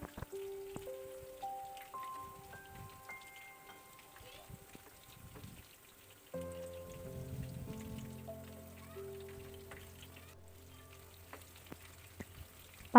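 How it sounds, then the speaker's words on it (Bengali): Chicken breast pakoras deep frying in hot oil over a medium flame, a steady close crackling sizzle throughout, with a louder, denser bubbling burst midway as more batter goes in, and tonal music playing over it. "এইভাবেই মিডিয়াম ফ্লেমে আমি পাকোড়াগুলো খুব ভালো করে ভেজে নেব।"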